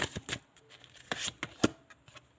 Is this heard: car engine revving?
no